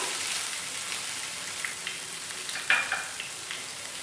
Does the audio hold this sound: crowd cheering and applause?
no